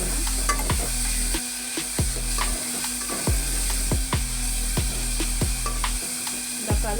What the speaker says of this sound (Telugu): వేసి అయితే ఇలా కలుపుకుంటున్నా